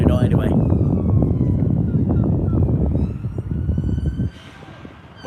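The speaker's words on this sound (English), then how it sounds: "But when that siren goes quiet" An emergency vehicle siren passes near a seashore during a heatwave, loud and close with traffic rumble underneath, then cuts off abruptly near the end, leaving quieter background.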